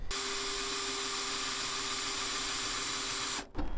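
A drill bores the first hole through the sheet-metal body of a van, a steady whining hum held for about three seconds before cutting off sharply.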